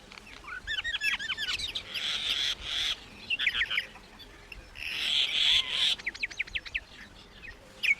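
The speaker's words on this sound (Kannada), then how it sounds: "ಮೈನಾ ಮೈನಾ." A mynah bird calls in a run of varied whistles, chirps and harsh buzzy notes, fairly close and clear, coming in repeated bursts with short gaps across the whole stretch.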